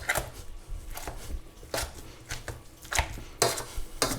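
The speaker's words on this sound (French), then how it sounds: "Vous équipez d'un presse-purée ou d'une fourchette et on va réduire la patate douce en purée." Cooked sweet potato being mashed into purée with a potato masher or fork, giving repeated soft squelching thumps and scrapes against the pot at an uneven rhythm, close and fairly quiet.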